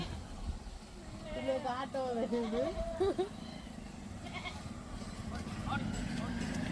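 Goats bleating outdoors along a path to a palm grove, a few wavering cries in the first half over steady background noise, with someone talking nearby.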